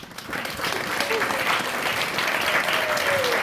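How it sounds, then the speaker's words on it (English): Sustained applause from a concert audience for a choir, steady clapping filling the room with a few faint voices mixed in. "give them one big round of applause"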